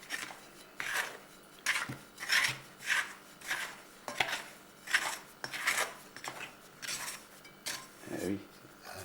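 Rhythmic scraping and rubbing as floured bread dough is worked loose from a salad bowl, about a dozen close, brisk strokes with short pauses between them.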